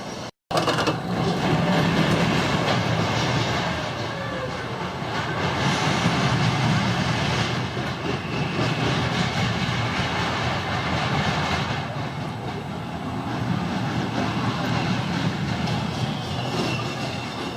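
A kiddie roller coaster train rolls along its track at Knoebels Amusement Resort in Elysburg, Pennsylvania, with a continuous rumbling clatter, swelling and fading as it passes, while people talk and call out over it.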